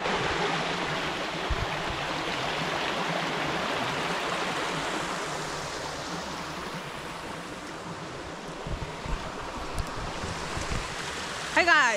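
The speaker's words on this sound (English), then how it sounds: "because of the water coming down, the sound might be so bad." Water rushes steadily down a village stream, a loud continuous broadband roar filling the whole clip, with faint voices in the background.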